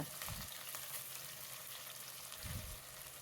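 Continuous crackling sizzle of sliced onions frying in oil for chicken biryani, with a couple of soft stirring scrapes.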